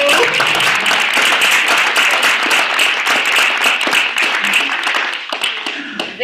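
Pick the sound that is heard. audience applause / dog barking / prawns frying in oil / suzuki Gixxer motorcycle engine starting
audience applause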